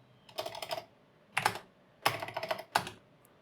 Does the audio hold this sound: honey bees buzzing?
no